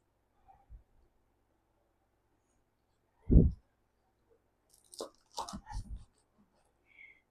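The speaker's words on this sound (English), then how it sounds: "The cornflakes are a little crunchy." Scattered crunching bites of crisp cornflakes, a loud crunch followed by a cluster of short crackly chews, close to the mic in otherwise quiet surroundings.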